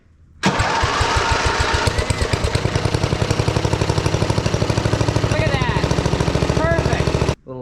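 A Montgomery Ward lawn tractor engine starts up and runs with a loud, rapid, steady knocking putter for several seconds, then cuts off abruptly; no talk over it.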